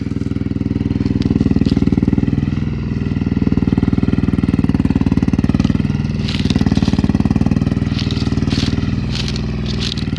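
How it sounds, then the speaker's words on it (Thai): A Thai farm truck with a Toyota 3L gearbox climbing in low gear, its diesel engine chugging loudly and steadily close by, with rattling knocks and clatters over the rough rhythmic idle-like pulse. "แล้วก็รถของเราก็ไต่ขึ้นไปนะคะ"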